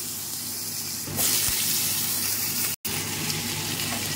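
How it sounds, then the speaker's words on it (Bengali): Potatoes tipped into hot oil tempered with dried red chilli and five-spice (panch phoron) set off a loud, steady sizzle that swells suddenly about a second in and continues close and unbroken, with no talk. "ফোড়নটা হয়ে গেছে, আমি এবার আলু দিয়ে দিচ্ছি।"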